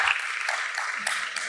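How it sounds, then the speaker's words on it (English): Short burst of audience clapping after a panel discussion, a moderate wash of hand claps that continues evenly through the brief moment. "Colleagues, let's give them a round of applause."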